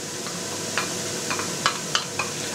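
Onion and carrot fry in a pan for a Carpathian mushroom soup, giving a steady close sizzle with a few sharp clicks of a utensil stirring against the pan.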